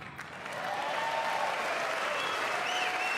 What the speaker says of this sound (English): The announcement prompted several minutes of bipartisan clapping.